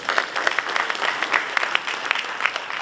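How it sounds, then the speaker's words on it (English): Audience applause at a university event, steady clapping from a crowd in a hall, moderately loud and continuous without talk over it. "Give a huge applause to him."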